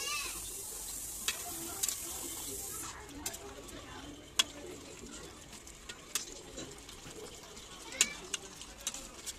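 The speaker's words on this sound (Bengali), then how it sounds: "এবার চিংড়ি মাছটা দিয়ে দেব। ভালো করে নাড়াচাড়া করে নেব।" Prawns and young jackfruit with boiled potato stirred in a pan, a faint steady sizzle under scattered sharp spatula clicks, a brief hiss at the start, quiet and close, with a bird cooing softly in the background.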